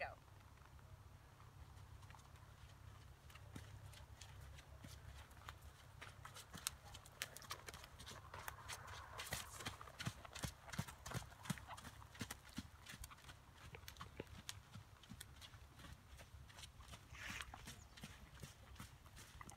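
A horse trotting with a steady, even clip-clop of hooves at moderate distance, the rhythmic beats continuing throughout while a person talks over them.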